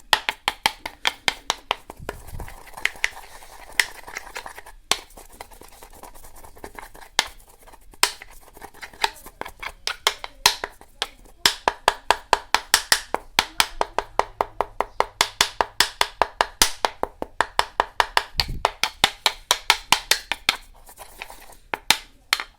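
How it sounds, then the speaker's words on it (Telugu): Dry ginger powder and spices are coarsely pounded by hand, giving a long run of sharp, close, regularly spaced strikes that quicken and steady into a brisk rhythm, with no talking. "ముందుగా వీటిని ఇలా కచ్చపక్కగా నూరండి అన్నీ మిక్స్ అయ్యాలి"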